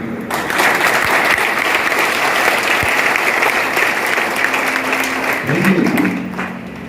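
Audience applause at a live political rally in Siwan, Bihar: sustained, dense clapping from a large crowd, steady and loud throughout with faint voices mixed in.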